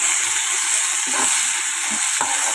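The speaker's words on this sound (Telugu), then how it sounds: "రొయ్యలు వేసుకుందాం." Marinated prawns fry in a hot pan with a steady broadband sizzle, broken by a few louder bursts of spatter as they settle into the oil.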